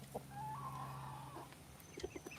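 A rooster on a Georgia farm gives a drawn-out, wavering crow up close, trailing off into a few short clucks.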